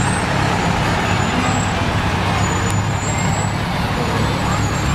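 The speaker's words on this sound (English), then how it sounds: "there's somebody in the back driving that fire truck" A Winchester, Kentucky fire truck tender rolls past close by, its loud heavy engine and road roar filling the whole span, with a faint hiss of air near the middle.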